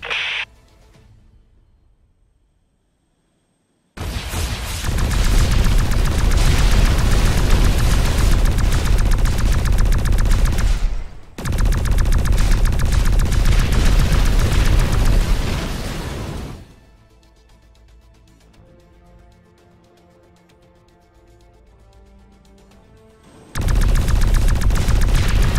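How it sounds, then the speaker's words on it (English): Jet fighters attacking aliens in X-Morph Defense: long roaring bursts of rapid gunfire and explosions, loud and dense, broken by a brief gap and a quieter stretch before the barrage returns. "Jet fighters in the zone, attacking the aliens."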